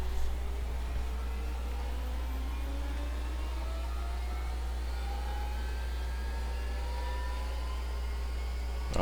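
Number 1 turbine engine of a Bell 412 helicopter in X-Plane 11 starting up, a steady whining whir with tones slowly rising in pitch over a constant low drone.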